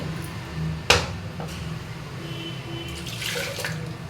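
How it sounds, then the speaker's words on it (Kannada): Water poured into ground fish curry masala in a cooking pot for a coastal-style white fish curry, a close splashing trickle with a sharp knock early on and light clinks later. "ಸ್ವಲ್ಪ ನೀರು ಹಾಕ್ಕೊಳ್ಳೋಣ"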